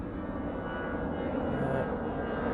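An airliner, apparently an A380, departs the runway at Manchester Airport on a frosty day, its engines a loud, continuous roar that holds steady for the whole stretch.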